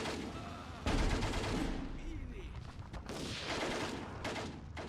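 Sniper and battlefield gunfire from the World War II strategy game Steel Division 2, fought in Karelia: a sharp report is followed by dense, continuous rattling fire and rumbling explosions that stay loud and busy throughout.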